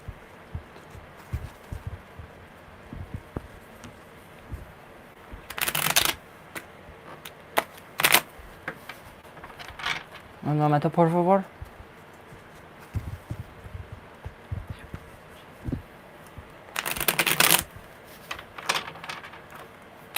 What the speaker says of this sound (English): I love these shuffles, you guys.